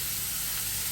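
Big onions with salt sautéing in a pan give off a steady, close, even hiss with no break.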